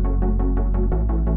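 Synth chord patch stabbing in a steady rhythm over a sustained bass line, built in FL Studio, dense in the lows and mids with little top end; about eight evenly spaced chord hits, loud and close, no voices.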